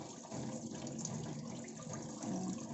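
Tap water poured over freshly made hot noodles from a noodle maker, a steady rushing splash that swells slightly near the end, close and continuous with no one speaking.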